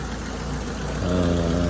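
Peugeot 306 car engine idling with power steering fault, a steady close low rumble that deepens and grows slightly louder partway through, with no voices.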